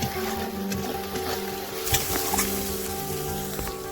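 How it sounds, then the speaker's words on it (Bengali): Turmeric is stirred into a sizzling masala for an elephant foot yam curry, making a loud, continuous frying hiss mixed with scraping from the stirring spoon, close up and without talk. "এবার দিয়ে দেব পরিমাণ মতো হলুদ, দিয়ে ভালো করে নেড়ে নেব।"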